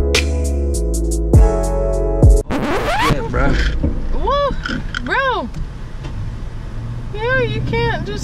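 Aboard a ferry heading toward Ocracoke, engine rumble and wind noise fill the background while people talk and sea birds cry repeatedly nearby.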